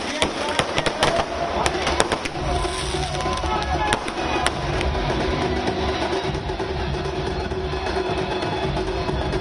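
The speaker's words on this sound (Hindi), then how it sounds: "आतिशबाजी हुई है।" Fireworks celebrate the arrival of Gujarat's new Chief Minister Bhupendra Patel, with rapid crackling bursts and sharp pops rattling over a busy crowd roar, densest in the first few seconds and then settling into steady background din.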